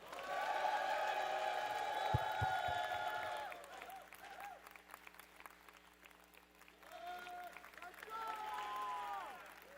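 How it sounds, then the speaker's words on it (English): Audience applause fills a gaming tournament grand final at Ascent Niagara Falls, a sustained wash of clapping with scattered cheers and whoops, easing midway then swelling again, with voices talking over it. "One more round of applause for all of our top 8 finalists here at Ascent Niagara Falls"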